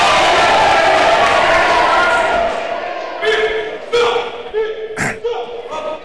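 Arena crowd at an evening Red vs Blue event, a broad murmuring roar that fades down, then scattered thumps and claps with brief cheers over the settling hubbub.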